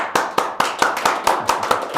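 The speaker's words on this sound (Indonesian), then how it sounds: "Boleh tepuk tangannya?" Applause welcoming a guest at a civil service development event, heard as distinct rhythmic claps about four per second, close and fairly loud, sounding like a few pairs of hands clapping in unison.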